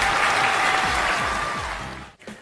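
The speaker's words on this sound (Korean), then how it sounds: "박수!" Young children at a kindergarten church service clap together in a steady burst of applause that carries on for about two seconds, then breaks off.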